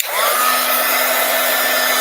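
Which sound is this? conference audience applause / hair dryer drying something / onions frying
hair dryer drying something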